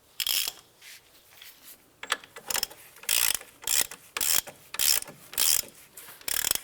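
A hand ratchet tightens strut bolts on a 2006–2011 Cadillac DTS, each stroke a fast burst of sharp clicks, repeated in roughly a dozen close, loud runs separated by short pauses.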